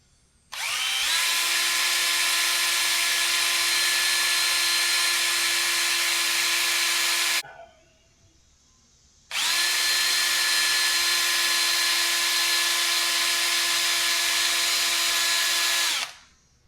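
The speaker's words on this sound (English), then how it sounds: "And I'm just going to drill" A power drill with a 1/16-inch bit drills into a soft screw on a Honda Odyssey front brake rotor, sounding as two long, loud, steady whining bursts with a short pause between.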